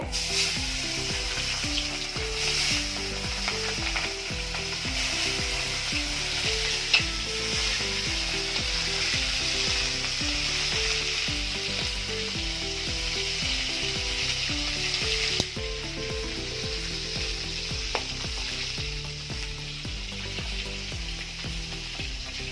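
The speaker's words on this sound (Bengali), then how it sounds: "কড়াইয়ের মধ্যে তেল দিয়ে দেবো। তেল গরম হয়ে গেছে, মাছ ভেজে নেব।" Tengra fish fry in hot oil in a wok with a dense, continuous sizzle that stays close and loud. A steady musical background plays underneath.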